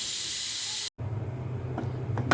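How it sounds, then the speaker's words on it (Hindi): A pressure cooker holding potatoes and spinach vents steam in a loud, steady close hiss that cuts off abruptly, followed by quieter rumbling and a couple of faint clicks. "जैसे इसका प्रेशर रिलीज होगा आपको पता ही नीचे हो जाएगा"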